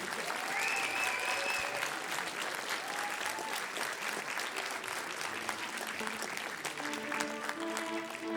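A concert audience applauds loudly and steadily through the whole stretch, with whistles and some pitched tones sounding over the clapping.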